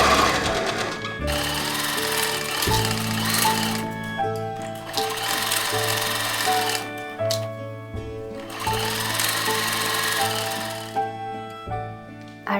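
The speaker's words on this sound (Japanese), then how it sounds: "背中心の縫い代にファスナーを縫い付けていこう" A sewing machine stitches a zipper onto the back centre seam allowance of a child's garment made from fabric scraps, running in a steady, loud mechanical whir with short pauses between bursts of stitching.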